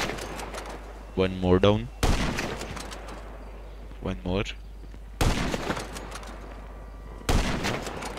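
A sniper rifle in GTA V fires in sharp, loud single shots spaced a few seconds apart. Someone talks excitedly between and over the shots.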